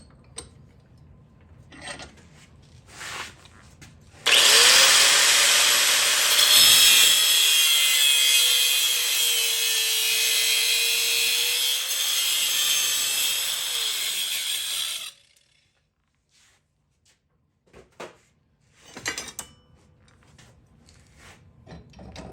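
A power cutter saws through pallet wood in a workshop, giving one loud, continuous grinding rasp that lasts about ten seconds and then stops. Soft handling clunks come before and after it.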